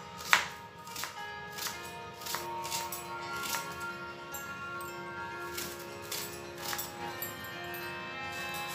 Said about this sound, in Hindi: अब प्याज को हम बारीक बारीक काट लेंगे।